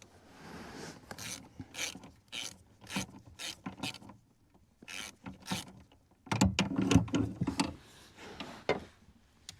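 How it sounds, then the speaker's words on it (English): A 3/8 ratchet with a long extension, swivel joint and deep 12mm socket clicking in repeated short bursts of rapid ratcheting, close and fairly quiet. "a 3/8 ratchet, a very long extension into a swivel joint, and then a deep well 12mm socket"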